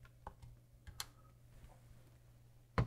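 A few sparse key presses on a TI-74 calculator keyboard sound as small, sharp clicks, close and fairly quiet over a steady low electrical hum, with no voices.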